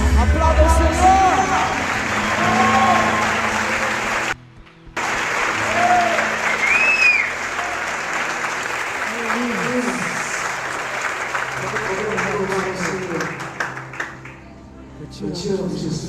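A congregation at a couples' church gathering applauds at length, dense sustained clapping and crowd noise with a brief dropout, musical tones and a voice carrying over the top.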